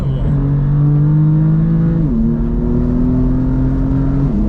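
A BMW M4 CS drives on a mountain road, its engine droning loud and close from inside the car, holding a steady tone before easing down in pitch twice as it slows and shifts.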